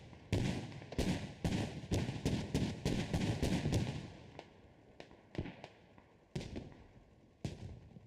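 A BTR armored vehicle fires in the Squad war game, a quick volley of sharp, loud reports followed by a few scattered shots that fade more distant, with no speech.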